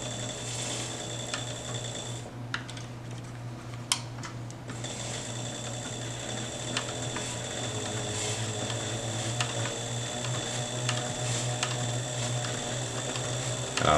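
A sewing machine stitching leather runs in a steady mechanical whir with rapid needle ticks, pausing briefly with a couple of clicks before resuming, close and continuous, no speech.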